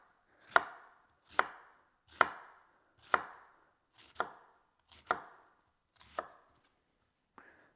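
A knife chops through an old onion on a cutting board, eight crisp, evenly spaced strokes about a second apart, close and alone in a quiet kitchen.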